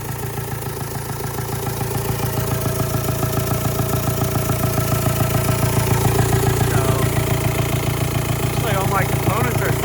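A TDI diesel engine idles steadily after being cranked, with a dense low clattering rumble and rhythmic knock that rises slightly in loudness and runs without pause throughout.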